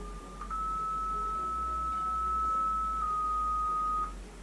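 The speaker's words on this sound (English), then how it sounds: "you hear there were 3 different tones of different frequencies, and the last one was the correct one for my group" Three electronic test tones at different pitches from an Arduino ESP32 circuit in a university engineering design project: a short first beep, then a long steady tone, then a final tone, sounding clean and alone over a faint low hum.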